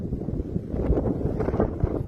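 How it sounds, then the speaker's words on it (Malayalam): Strong wind gusts buffet the microphone on an open hilltop at Muttara hills in Kollam, a continuous low rumbling roar that swells and dips throughout with no clear speech. "ഭയങ്കര കാറ്റടിക്കുന്നു"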